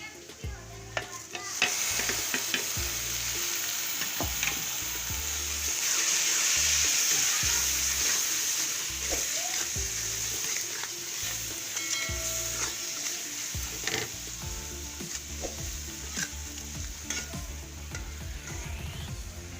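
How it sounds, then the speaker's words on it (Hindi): Spices frying with golden onions in a pan for a liver and potato curry: a continuous close sizzle with recurring scraping stirs and clinks of a spoon against the pan, swelling briefly in the middle, with no speech. "प्याज हमारा गोल्डन हो गया है। अब मैं इसमें मसाले डाल रही हूँ।"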